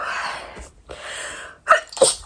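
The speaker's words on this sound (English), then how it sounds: "I need to sneeze." A person sneezes indoors: a breathy in-drawn build-up followed by one sharp, close sneeze and a quick second burst.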